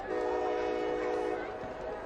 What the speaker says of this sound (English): Another one of those trains on a high school Friday night coming through Sylacauga, Alabama.